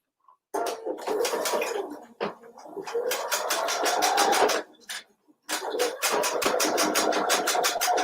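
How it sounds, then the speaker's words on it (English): A sewing machine stitches fabric to encase a raw edge, running in long loud steady bursts of rapid needle clatter, with brief pauses between runs. "So I'm going to turn it this way and just stitch it one last time to encase that raw edging."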